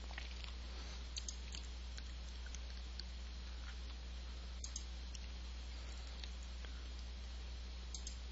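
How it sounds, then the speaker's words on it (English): Computer mouse with a faulty button clicked while playing the browser game Battle Pirates: faint, scattered sharp clicks, some in quick pairs, over a constant low electrical hum. "If you hear me clicking, sometimes I have to click extra because my mouse is messed up."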